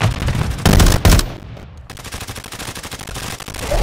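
Rapid automatic gunfire in the shooter game Warzone, with loud, dense bursts near the start, a short lull, then a continuous stream of quicker, lighter shots.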